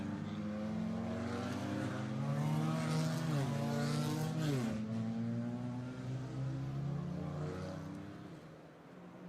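DTM Trophy race cars circuiting Monza behind the safety car, engines droning steadily with a couple of pitch dips as they shift or lift, a sustained loud mechanical roar that fades slightly at the end.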